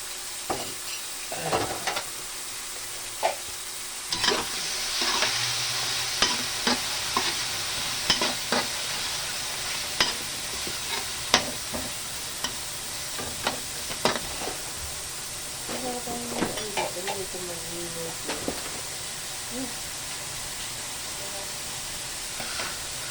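Pancit canton noodles are sautéed with oyster sauce in a pan, a continuous hiss of frying punctuated by many clattering stirs and scrapes of a utensil, with a voice speaking briefly over it.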